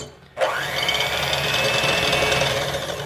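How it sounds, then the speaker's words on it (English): A handheld electric mixer starts abruptly and runs at a steady loud whir while beating egg whites for meringue cookies, its motor tone holding constant throughout. "I have a hand mixer that I'm going to use."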